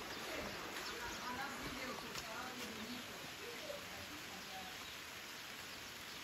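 Heavy rain pours down in a village, making a steady, fairly soft hiss of water on surfaces, with occasional dove-like cooing faintly in the background.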